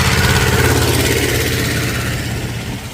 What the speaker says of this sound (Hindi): ट्रैक्टर आ रहा है जी और साथ में छोटी ट्रॉली भी है